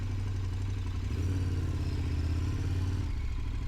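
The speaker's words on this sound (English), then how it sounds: "So I'll park the bike" Idling motorcycle engine rumbles steadily while the bike is being parked, a close low throbbing note that shifts pitch slightly midway and drops near the end.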